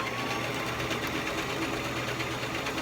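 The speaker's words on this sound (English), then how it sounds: "So I'll just sew it right now." A sewing machine stitches a fabric scrunchie, running in a steady, close mechanical whir with a rapid needle rhythm throughout, no speech.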